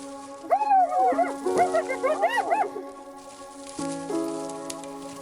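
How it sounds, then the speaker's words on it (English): African wild dogs clash with hyenas over a carcass, with close whining, yipping and whimpering calls in rapid overlapping bursts, a pause, then fainter sustained tones. "Teeth clash, bodies slam, and blood mixes with dust."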